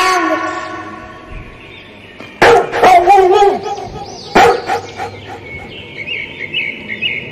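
A cartoon-style dog gives two sharp, loud barks in a children's alphabet song, set against a musical backing with chirping birdsong.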